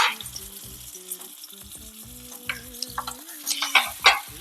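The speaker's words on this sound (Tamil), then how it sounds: "இந்த மசாலாவுடைய பச்சை வாசனை போகிற அளவுக்கு வதக்கி விட்டுக்கலாம்." Masala for a fish curry sautés in a pan, giving a soft close sizzle with scraping stirs under background music, and the stirring grows busier near the end.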